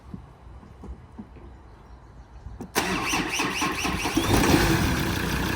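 After a quiet stretch with faint clicks, a truck's newly installed engine cranks briefly and catches. It settles into a steady, loud idle that swells slightly toward the end, and nobody speaks.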